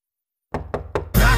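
Three firm knocks on a door in a cartoon scene, evenly spaced and close, followed by a sudden loud burst of noise as the knocking ends.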